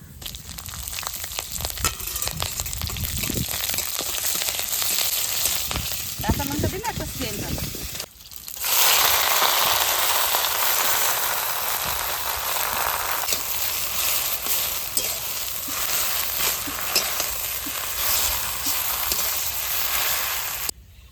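Mustard seeds and dried red chilies frying in hot oil in a home kitchen: a loud, continuous sizzle that surges sharply partway through, with crackling and stirring and someone talking over it.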